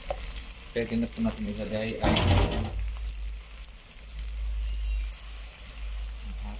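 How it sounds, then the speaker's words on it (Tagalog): Garlic, ginger and onion sautéing in a pan for coconut-milk tilapia, a steady close sizzle and fry with stirring clatter, swelling briefly louder midway, while someone speaks over it at first. "At haluin lang mga 20 seconds po pag medyo mapula na yung bawang, luya, sibuyas."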